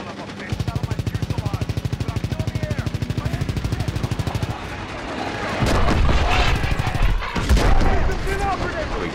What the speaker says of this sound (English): Oh my god, I'm getting shot at.